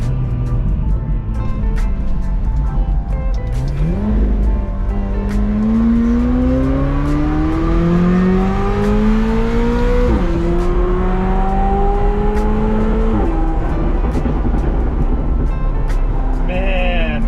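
A Lamborghini Huracan driven in manual mode, engine droning loud and close as it climbs through rising revs, with two gear changes dropping the pitch before the engine settles near the end.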